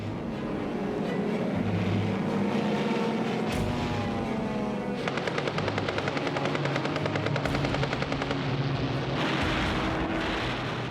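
WWII military aircraft attacking a Japanese convoy in the Pacific drone loudly and continuously in old archival sound, broken midway by rapid rattling bursts.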